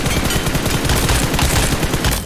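Rapid automatic gunfire from the mobile shooter PUBG Mobile, a loud, unbroken burst of tightly spaced shots lasting about two seconds with no talking.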